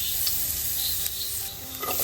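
Garlic frying in hot oil in a pan, a steady close hiss of sizzling with light scraping, no voices.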